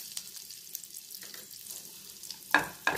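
Cumin seeds and asafoetida spluttering in hot oil for a fenugreek amti, a soft steady crackle followed by two sharp loud sizzling bursts near the end, close up with no talk.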